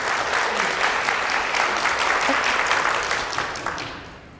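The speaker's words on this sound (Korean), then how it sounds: "개인적으로도 3주년 기념일이니까 박수 한번 부탁드리겠습니다." An audience at a keto diet lecture event claps loudly and steadily with dense, sustained applause that fades out toward the end.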